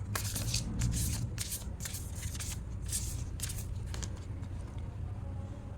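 Tarot cards being shuffled and drawn by hand, with a series of quick riffling, flicking bursts over a steady low background hum, close and fairly soft.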